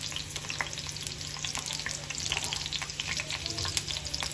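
Hot ghee frying in a pan for a dal and egg dish, a dense, continuous crackling sizzle with light stirring scrapes, close and steady throughout.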